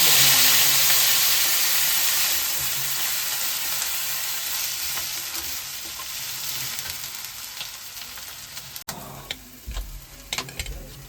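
Ginger fries in hot oil in a pan for a masala baingan dish, a loud steady sizzle that slowly fades, then sharper clicks and scrapes of stirring near the end, all close up with no voices.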